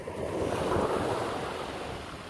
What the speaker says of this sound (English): Having to be quick because this tide's coming in very quickly.